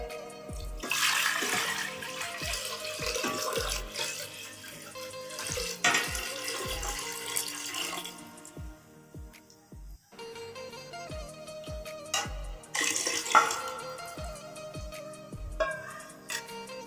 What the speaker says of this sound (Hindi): अभी हम हांडी में तकरीबन 3 गिलास पानी डालेंगे।